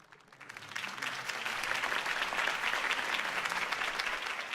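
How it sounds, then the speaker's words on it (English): A crowd in Batman: The Telltale Series bursts into applause after a campaign speech, the clapping swelling from a thin start into a dense, sustained wash of hands that holds steady to the end. "If only Mr. Wayne, my campaign's largest backer, could have heard that applause"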